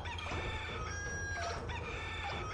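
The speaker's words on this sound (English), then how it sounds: "Get those chickens!" Chickens clucking and crowing in the video game Katamari Damacy, several overlapping cartoonish bird calls over steady game music.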